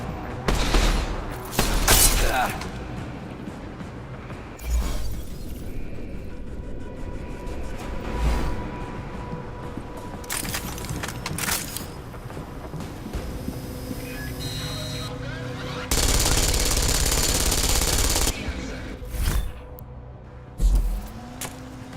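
Gunfire and an EMP frag grenade blast in the video game Deus Ex: Mankind Divided, used against a turret, with loud bursts and a sustained roar of noise breaking through a busy mix of game sounds and a voice.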